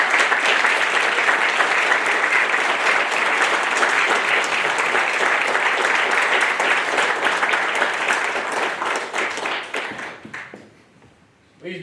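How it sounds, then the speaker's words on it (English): An audience at a Navy graduation ceremony for new third-class petty officers claps in loud, sustained applause for about ten seconds, then the clapping thins out and fades to near silence. "please join me in a round of applause for the Navy's newest third-class petty officers"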